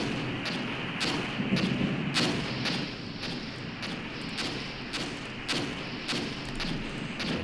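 Repeated artillery strikes in the Armored Brigade war game, with a steady series of sharp thuds and booms landing about every half second to a second, loud and continuous over a rumbling battlefield background.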